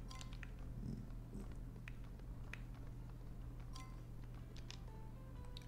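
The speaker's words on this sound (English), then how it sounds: "Kitty is sleeping." A sleeping cat purrs in the Bloomtown video game, a very faint continuous low rumble under a steady hum, with scattered tiny ticks and no talk.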